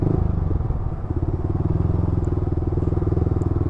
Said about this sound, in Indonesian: ini motor R15 ya guys, 105 cc, 155 cc ya lebih tepatnya, tapi suaranya benar-benar udah kayak R6